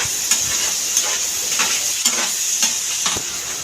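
Onions and tomatoes fry in oil for a dry mutton curry with ridge gourd, a steady close sizzle broken by about five sharp scrapes of a spoon stirring the pan, with no talking.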